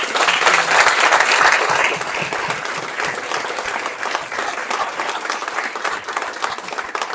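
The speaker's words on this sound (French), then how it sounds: "je pense que tout le monde mérite de s'applaudir maintenant" Dense, sustained applause from a crowd at a boxing press conference, loudest at the start and continuing steadily throughout, with no one speaking over it.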